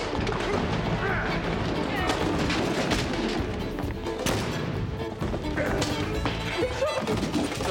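Gunfire during a tense television drama scene, dense and loud throughout with repeated sharp cracks and crashing impacts over a busy, chaotic background, with voices mixed in.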